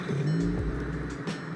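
A car engine cranks and catches, firing up with a quick rising roar before settling into a low idle.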